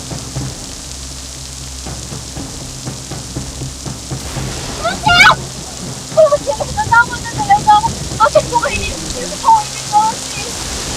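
Steady rain pours in a continuous hiss during a thunderstorm, with people talking over it in the foreground.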